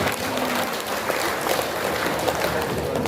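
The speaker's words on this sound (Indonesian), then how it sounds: "Tepuk tangan buat semuanya." A crowd at a pendopo gathering in Banjarnegara gives a round of applause, a continuous mid-level patter of clapping hands that holds steady from start to finish with no talk over it.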